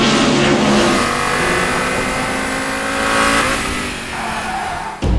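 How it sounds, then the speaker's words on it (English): A 1989 five-cylinder race car engine roars loud and close, revving hard with a raspy, throbbing note that swells and eases as the throttle changes, without any talk. "Many people remember the sound of the five-cylinder in former times."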